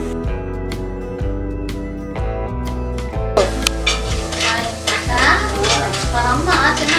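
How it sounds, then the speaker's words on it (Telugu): Tomatoes seasoned with turmeric powder and coarse salt are stirred in a hot pan. A steady sizzle and scraping of the stirring grow louder partway through, with tonal background music throughout. "బాగా కలబెట్టుకోవాలి."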